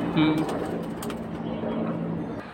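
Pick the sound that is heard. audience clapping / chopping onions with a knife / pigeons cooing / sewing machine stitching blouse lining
pigeons cooing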